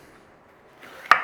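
A kitchen knife cubing bell peppers on a cutting board, heard as one sharp close chop after a brief soft rustle, no voices.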